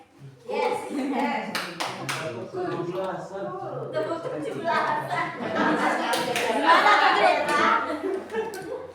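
A group plays the Tepuk 17-an clapping game, hands clapping in a steady patterned rhythm mixed with children's voices chanting, chuckles and laughter throughout, fairly loud and close.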